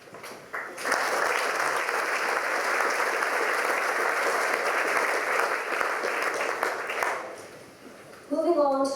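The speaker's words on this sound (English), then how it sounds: "again I welcome your applause for each individual award" An audience at a school prize night in a college hall gives sustained applause for an award winner. The clapping rises quickly, holds steady for several seconds, then fades, and a speaker's voice comes in at the end.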